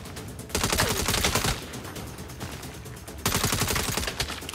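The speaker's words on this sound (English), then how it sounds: "Incoming fire!" Rapid automatic gunfire in the Saints Row game, two long bursts of fast, sharp, evenly spaced shots, loud and close, separated by a brief quieter stretch with no talking.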